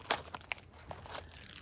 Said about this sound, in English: emergency blanket